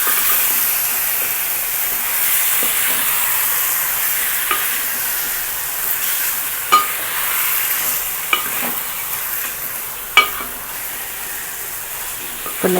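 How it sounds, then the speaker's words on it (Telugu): Chicken pieces stirred in a hot pot for homemade biryani, a steady sizzling hiss with scattered sharp scrapes and clanks of the spoon against the vessel, close and continuous. "చికెన్ వేసుకొని మొత్తం బాగా కలియబెట్టండి."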